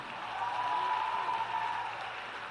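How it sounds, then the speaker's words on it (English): A high school graduation audience applauds the Palm Beach County superintendent, with a dense, even roar of clapping from a large crowd at some distance, steady throughout. "give him a big round of applause"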